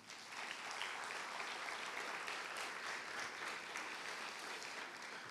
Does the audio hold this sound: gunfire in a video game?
no